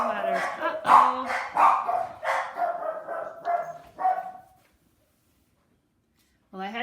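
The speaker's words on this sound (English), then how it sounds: "I had to make my silly dog stop barking." A dog barks in a rapid, loud run of close yaps for several seconds, falls silent, then lets out one more bark at the very end.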